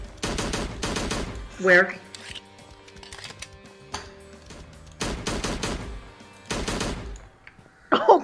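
Loud bursts of rapid automatic gunfire in the Slendytubbies horror video game, three long volleys separated by pauses, with someone speaking briefly between them.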